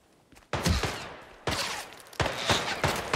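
Gunfire in Hitman 3 comes as three loud, abrupt bursts of rapid shooting, each followed by a rattling decay.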